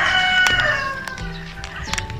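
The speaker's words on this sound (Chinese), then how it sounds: "到处都是鸡鸣狗叫的声音" A rooster crows loudly and close by in a quiet rural Chinese village at midday, one long drawn-out call with a few sharp clucks after it.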